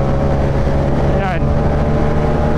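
Yamaha MT-07 motorcycle with Alientech tuning, its engine held loud and steady close by before a brief rising rev toward 5,000 RPM, with constant broadband roar throughout.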